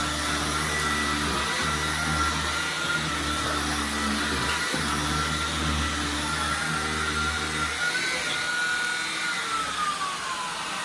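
A bagless vacuum cleaner roars loudly and continuously on boost mode, its motor hum dropping away near the end while the whine carries on.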